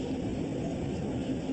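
An Airbus A320 on landing approach passes close overhead, a steady broad roar of engine and wind noise that holds at an even level for the whole stretch with no talk.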